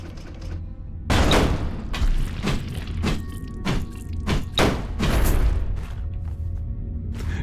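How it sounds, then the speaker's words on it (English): A high-tech turret in the GateWalkers video game fires cannonball-like rounds, giving a series of about eight heavy, booming thuds spaced roughly half a second apart, fairly close and loud, with no talking. "this is a high-tech turret that shoots basically cannonballs"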